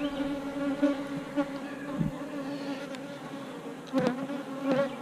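Honeybees buzz steadily around an open brood frame lifted from a hive during an inspection, a close, continuous drone with a few louder swells as bees pass near.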